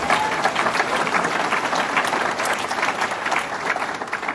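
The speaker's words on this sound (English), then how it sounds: "Let's give him a round of applause." A crowd at a governor's public announcement in Buffalo delivers a loud, continuous round of clapping, dense and steady for a few seconds with faint crowd murmur underneath.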